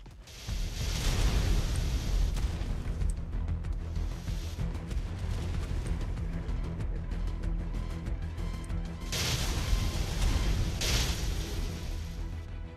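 Explosions going off against behemoth gates at a tek base in the game Ark Survival Ascended, a dense, loud continuous rumble with heavy low-end booms and bright bursts swelling near the start and again later, no talking.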